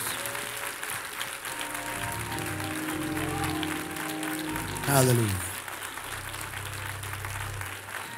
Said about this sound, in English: Clap your hands for Jesus and give God the praise